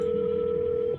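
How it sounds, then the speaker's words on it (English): A phone dials out in the video game Scarlet Hollow: one steady electronic tone holds for about a second, then cuts off, clear and close with no talk. "You dial Stella."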